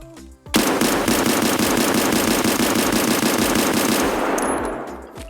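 Rapid, sustained automatic fire from an SKS rifle in Escape From Tarkov, a dense, evenly spaced burst of loud, close cracks lasting several seconds before trailing off into a short echo.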